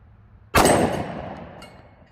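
A single sharp gunshot from a 10mm pistol at an outdoor range cracks out loud and close, its report ringing and decaying over the following second amid faint background hiss.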